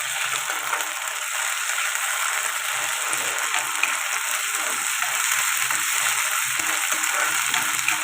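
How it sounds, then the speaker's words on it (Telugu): Ginger-garlic paste fries with onions in a pan for a prawn masala curry, giving a loud, dense, unbroken sizzle close up throughout. "ఇప్పుడు ఇది కూడా పచ్చివాసన పోయేదాకా ఫ్రై చేసుకుందాం."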